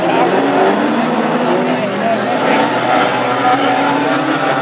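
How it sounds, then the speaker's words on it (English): Hot rods finish a race heat at Lochgelly, their engines roaring loud and continuous as cars pass near, under a commentator's talk. "the checker flag goes, and Charlie Chembry just gets it by half a car's length"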